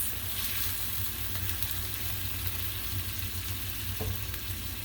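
Sauce cooking in a pan, a steady, close sizzle and bubbling that holds even and continuous without talk.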